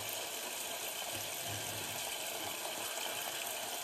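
Water running steadily from a tap during a wet shave, a constant hissing stream close by without pauses, with no talking over it.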